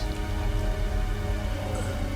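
Continuous heavy rainfall in Devil May Cry 3, an even broadband patter and rumble holding at the same loudness throughout, with no speech.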